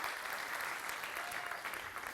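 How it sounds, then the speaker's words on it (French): Steady, dense applause from an audience at a Paris tech product presentation, continuous and fairly even throughout, with no voices standing out. "Vous pouvez applaudir, effectivement."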